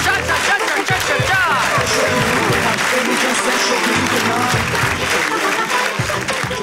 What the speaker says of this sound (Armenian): այսպես բարձր ծափարություններով եկեք դիմավորենք սիրված երգչուհի